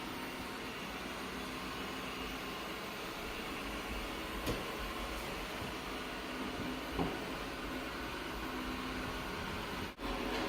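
A robot vacuum cleaner runs steadily, its continuous motor whir and brushing hum holding at an even level while it picks up pet fur in a home with cats and dogs, with a few faint clicks and bumps along the way.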